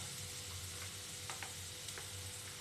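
Ground spices hitting hot oil in a pan while cooking an egg curry (dim tarkari), a quiet steady sizzle with a low hum and a few faint clicks of stirring.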